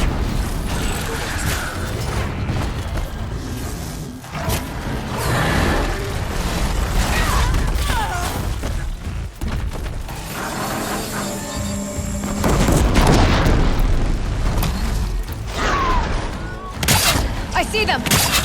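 Disc launcher machines firing in the video game Horizon Zero Dawn Remastered, loud booming bursts and mechanical clatter amid battle noise, with voices talking over the combat.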